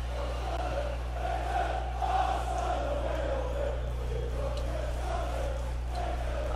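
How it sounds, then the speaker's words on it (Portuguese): Stadium crowd chanting in FIFA 20 during a Sunderland career match, a steady rolling roar of many voices rising and falling continuously over a constant low hum. "A torcida no canto."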